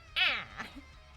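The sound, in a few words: cat meowing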